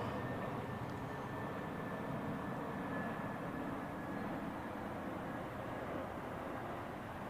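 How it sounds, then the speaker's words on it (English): At Zurich Airport, a plane takes off from runway 28, heard from a distance as a steady, broad engine roar that holds at an even level throughout. "Runway 28, clear for takeoff."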